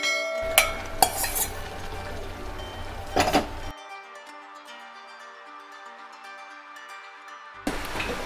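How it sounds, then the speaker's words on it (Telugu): Cooked rice being stirred into light jaggery syrup with cardamom powder for rice payasam, giving a few scraping clinks of a spoon against a pot early on, then a quieter stretch of low kitchen hum. "బెల్లం కూడా అన్నంలో పీల్చుకుంటుంది, అందుకని ఇలా కలుపుతున్నాను"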